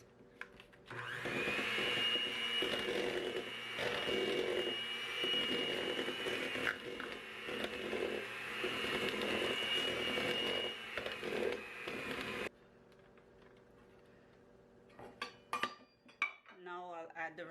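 An electric mixer whirs steadily through cream cheese chocolate chunk cookie dough in a bowl, a loud continuous motor drone with slight variations, stopping abruptly near the end before a few light clinks and rustles.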